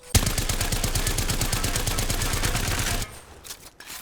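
An automatic gun in Apex Legends fires a rapid, evenly spaced burst of shots for about three seconds, loud and close, then stops, leaving a few faint clicks and shuffles.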